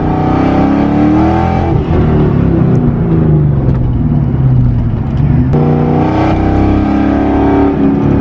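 Boosted Ford Mustang GT V8 with a running fault, held at roughly half throttle: a loud, close, continuous rumbling drone with uneven, rough fluctuations and brief dips in tone throughout.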